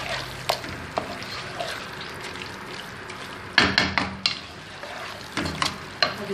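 Chicken frying in a pan with ginger masala, a low sizzle broken by scattered clacks and scrapes of a spoon stirring against the pan, with a few louder knocks near the end and no talking.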